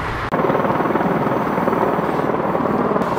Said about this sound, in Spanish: vengo de vuelta y el helicóptero sigue ahí